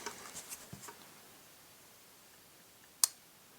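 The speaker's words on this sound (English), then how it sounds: "it makes click when you pull the trigger from the reset point" A single sharp, brief click from a Steyr M9A1 pistol trigger released from its reset point, isolated after faint handling taps, near and crisp in a quiet room.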